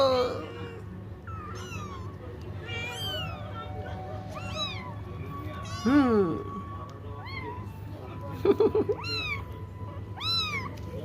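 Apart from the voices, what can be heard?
cat meowing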